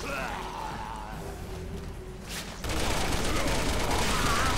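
Gunfire in the video game Resident Evil 6, a sudden dense burst of shots breaking in partway through and continuing loudly to the end, following quieter game sounds.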